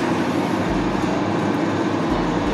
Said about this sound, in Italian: in treno, è una carrozza lunga 25 metri